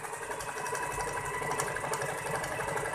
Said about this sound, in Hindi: मैं आपको बारी बारी सारी सिलाई चला के दिखा रहा हूँ